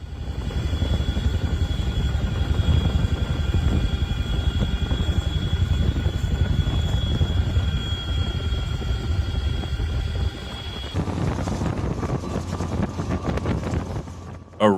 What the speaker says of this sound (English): Some rails can catch fire in summer, and because it's hard to reach, helicopters are used to put it out.